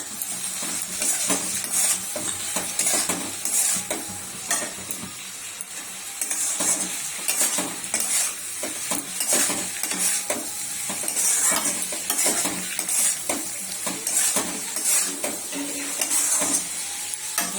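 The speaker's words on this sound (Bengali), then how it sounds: "আলুটা ভাজা হয়ে গেছে, এতে নুন, হলুদ, একটু লঙ্কার গুঁড়ো আর কস্তুরি মেথি দিয়েছি" A potato curry with salt, turmeric, chilli powder and kasuri methi frying in a pan, stirred continuously, with steady sizzling and frequent scraping and clinks of the utensil against the pan, close and loud, no voices.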